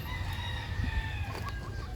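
A young rooster crows once, close and steady, alone over a low background hum.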